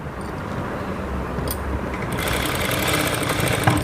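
Electric sewing machine stitching large, long stitches while adjusting side seams, a steady mechanical whir that grows louder and busier partway through, with no talk.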